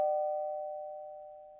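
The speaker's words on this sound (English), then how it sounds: "Just then, the doorbell rings." A single clear doorbell chime rings out and slowly fades, alone against silence.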